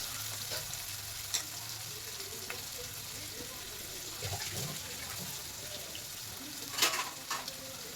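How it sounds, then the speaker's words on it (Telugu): Chopped onions and green chillies fry in oil in a pan, a steady close sizzle that runs throughout, with a few light stirring clinks on top; no one speaks over it. "ఇప్పుడు పాన్‌లో నూనె పెట్టుకొని దాంట్లో సన్నగా తరిగిన ఉల్లిపాయ ముక్కలు, పచ్చిమిరపకాయ ముక్కలు వేసేసుకొని అవి కొంచెం బాగా వేగనివ్వాలండి"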